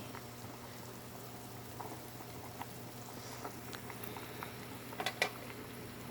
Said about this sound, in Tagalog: Kuluan natin mabuti.